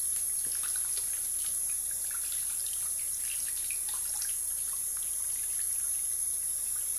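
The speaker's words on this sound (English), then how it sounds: "So now you want to rinse this completely in the sink." Tap water runs steadily into a bathroom sink while a shaving brush is rinsed under it, a close, continuous splashing hiss with faint bright spatters and no talk.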